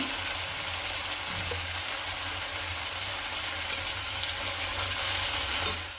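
Tomatoes with onion and turmeric fry in a pan, giving a steady close sizzle with faint stirring scrapes, continuous and fairly loud, with no speech.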